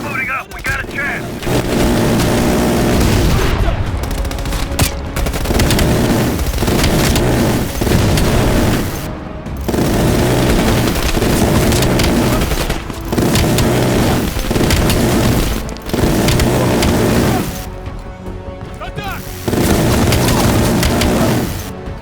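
Bomb strike explosions in Call of Duty: Black Ops Cold War: a sustained, loud barrage of booming blasts and rumbling debris, pulsing in repeated waves with brief gaps, with voices mixed in.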